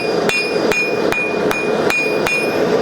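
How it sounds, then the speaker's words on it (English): A hammer strikes a steel gouge blank on an anvil during forging, about seven sharp ringing blows in an even rhythm, each with a bright metallic ring, close up with no talking. "you're just resting the part that you're smithing on the anvil"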